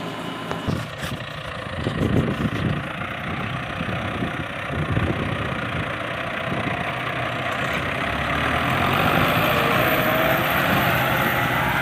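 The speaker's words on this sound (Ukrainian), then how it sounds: "Трактор НТЗ" A diesel NTZ 892.2 tractor engine idles steadily with a low, constant rumble, growing slightly louder toward the end.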